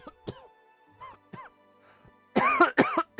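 A real coughing fit: a few scattered coughs and throat noises, then a louder burst of harsh, rapid coughs near the end, close and alone without talk.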